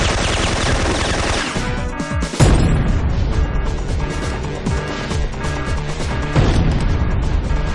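Grenade blasts and heavy gunfire in a video game, loud, dense crashing booms with a big impact near the middle and constant rattling fire over a music-like bed.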